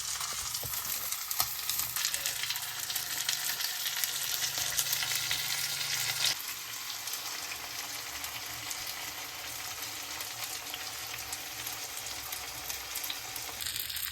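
Pomfret fish frying on a flat tawa, a continuous close hiss and sizzle of hot oil that shifts to a slightly softer, steady crackle partway through, with no voices.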